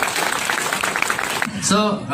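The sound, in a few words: applause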